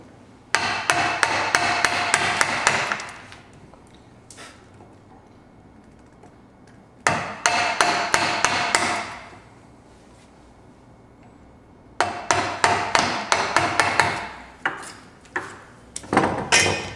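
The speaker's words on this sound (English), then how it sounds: "Chiseling out, I tend to use a chisel with the bevel down so that it brings it up" A chisel chops out wood for a dovetail halving joint in three bursts of quick, sharp mallet-driven strikes, close and crisp, separated by short quiet gaps.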